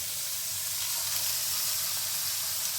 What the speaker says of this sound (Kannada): ಹಸಿ ಬಟಾಣಿ ಮತ್ತು ಕ್ಯಾಪ್ಸಿಕಮ್ ಹಾಕ್ತಾಯಿದ್ದೀನಿ.